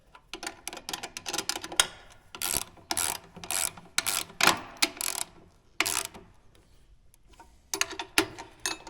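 Stiff used bolts with gunk on their threads are driven in with a tool, giving repeated close bursts of mechanical ratcheting and clicking, separated by short pauses.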